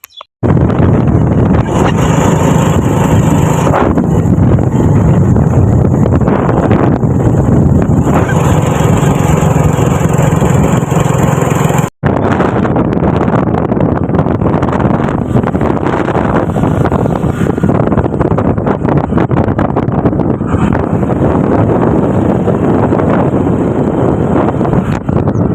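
A motorbike ridden along the road, its steady engine drone buried under loud, continuous wind buffeting against the microphone for the whole ride, with one brief dropout partway through.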